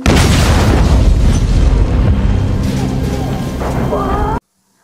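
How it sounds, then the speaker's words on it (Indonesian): A suspicious truck explodes in a Guy Ritchie war film, making a loud, sustained roaring blast with rumbling debris. It cuts off abruptly into silence, and a voice narrates over the explosion. "tiba-tiba saja sebuah ledakan terjadi"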